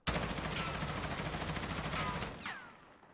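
Rapid automatic fire from an M4 rifle in the shooter game Call of Duty Warzone: a loud, sustained burst of closely spaced shots lasting over two seconds, then cutting off with a short fading tail.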